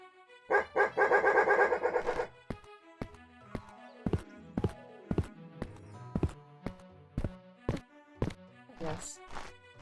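In the fantasy role-playing video game Daggerfall, a dog barks repeatedly in quick sharp yaps, first a dense loud burst, then a steady run of single barks with clip-clopping hooves, no speech over it.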